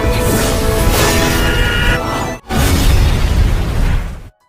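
A massive roaring explosion with deep rumbling from an animated fantasy series, briefly cut by a sharp gap, then surging again before stopping abruptly.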